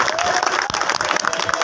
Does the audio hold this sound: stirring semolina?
no